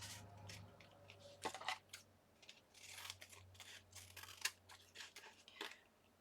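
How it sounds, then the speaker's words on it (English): Scissors snip through paper in a series of crisp, irregular cuts, close and fairly quiet, with short pauses between bursts. "I've got glue on my scissors, so they're fighting me."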